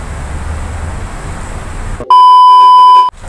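A single clear electronic bell-like notification tone, sustained for about a second after a brief quiet lead-in, loud and alone with no talking.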